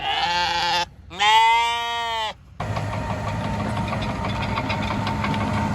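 Escaped sheep and lambs bleat loudly in a farm field in two long harmonic calls close by, followed by a steady low engine rumble.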